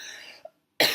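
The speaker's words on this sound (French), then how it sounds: "Je traîne cette petite toux sèche qui est très désagréable" A single short, dry cough, close and fairly sharp, between stretches of broadband noise, with a brief pause of near silence after it.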